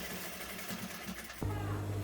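A sewing machine stitches fabric for a turtleneck corset gown, a low buzzing whir that starts abruptly partway through and runs on steadily, with faint handling noise before it.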